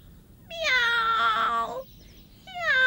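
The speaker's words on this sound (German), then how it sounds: "Miau!" A cat meows loudly and clearly in a long drawn-out cry, then starts a second meow, with no one talking over it.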